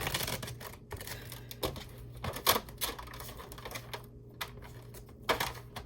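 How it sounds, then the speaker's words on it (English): Tarot cards being shuffled by hand, a run of quiet, close riffling clicks and soft slaps in irregular bursts against a low background hum. "They want me to shuffle once more."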